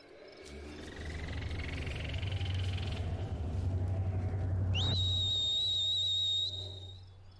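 Amid faint outdoor ambience, a person whistles one shrill, steady, high note that rises in and holds for about a second and a half before stopping.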